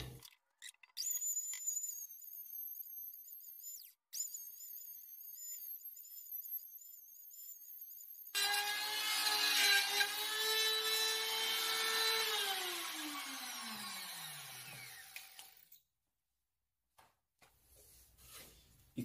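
Wood router cutting a circle for a folding table: a high whining spin holds steady, then bites into the wood with a louder harmonic roar whose pitch sags and fades as the cut finishes, followed by brief quiet.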